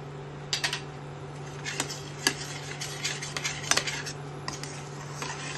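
Melting jaggery with dry fruits is stirred in a pan, giving close, irregular metallic clinks and scrapes of the spoon over a steady low hum, with no talking.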